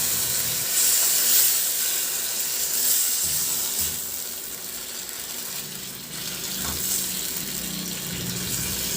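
Half a kilo of squid hits a pan of adobo sauce seasoned with liquid seasoning, a continuous loud hissing sizzle with steam that swells and eases over several seconds.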